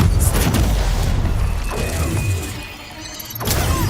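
Incendio fire spell bursts in Hogwarts Legacy, a loud booming whoosh with crashing, crackling texture that swells, dips briefly, then flares again near the end.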